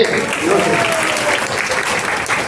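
Loud crowd applause at a religious katha gathering fills the whole stretch, with a voice faintly audible beneath the clapping.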